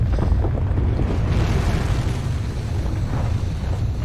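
Volcano erupting in the city-building game Tropico 4, a steady low rumbling roar with a continuous dense boom that holds at fairly constant loudness throughout, no voices.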